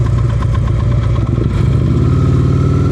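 A motorcycle engine runs at low speed during slow-speed riding practice in Massachusetts, a steady, loud, close chugging idle with a slight change in pitch partway through as the throttle shifts, and no talking.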